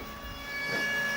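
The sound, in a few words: siren on an amusement ride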